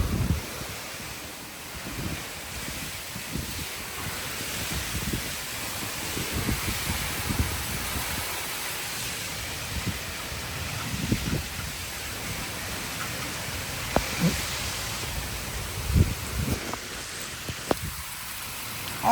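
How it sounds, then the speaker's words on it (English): A strong wind gust roars through a yard during a severe thunderstorm, a sustained broadband rush with buffeting on the microphone and irregular low thumps, loud and close throughout. "that was literally like a 60-mile-an-hour gust"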